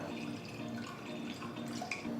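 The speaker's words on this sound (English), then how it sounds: "pour some water in a pressure cooker" Water is poured into a pressure cooker in a home kitchen, ahead of boiling halved potatoes for samosa filling, giving a steady close trickling and dripping splash with no talk.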